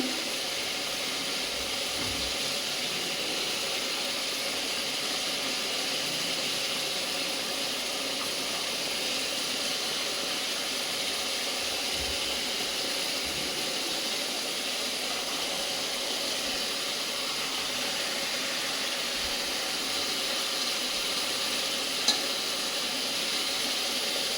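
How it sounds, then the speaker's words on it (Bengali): A pot of vegetable curry with fish added bubbles and sizzles at a steady boil, a constant soft hiss with faint stirring bumps and one small click near the end. "তরকারিতে আমার বলক উঠে গেছে, আমি এখন মাছগুলো দিয়ে দিলাম"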